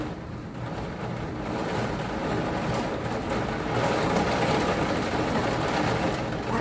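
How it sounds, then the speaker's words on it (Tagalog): Strong wind drives heavy rain past a third-floor spot during a sudden summer storm in Saudi Arabia, a steady, loud, broadband roar and hiss that holds for the whole stretch with no talking. "Grabe yung hangin. Nilipad yung ulan."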